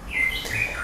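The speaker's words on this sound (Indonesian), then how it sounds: "Oh, itu suara burung berisik banget" Birds chirping, with short high tweets and rising calls over a low background hum, sounding close and fairly loud in a brief burst.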